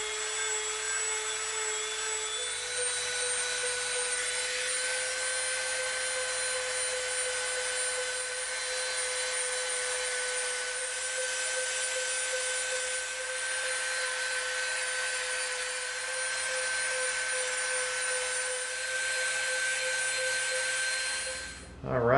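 High-speed Dremel rotary tool sanding and rounding the handle of an EVA foam knife, a steady whining drone held at close range for the whole stretch with no talking.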